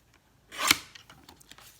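A small paper trimmer slicing through cardstock in one quick swishing cut, followed by a few faint light clicks.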